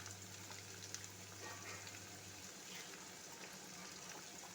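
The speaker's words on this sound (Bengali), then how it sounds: "উষ্ণ গরম জল চিকেনের ভেতরে দিতে হবে।" Warm water is poured into a pan of Kashmiri chicken masala, giving a faint, steady gushing and bubbling hiss over a few seconds, quiet and unbroken, with no speech.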